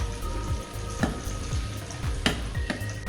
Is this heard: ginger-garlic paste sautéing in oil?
yes